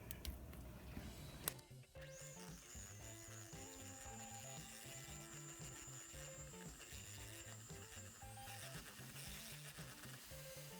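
An electric hand mixer whirs steadily while creaming butter and shortening with sugar for chocolate chip cookies, a continuous motor whine with rhythmic beater churning, fairly quiet and close, with no speech.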